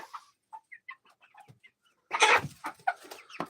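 A hen gives a string of soft, short clucks up close, then a louder, denser burst of clucking near the end.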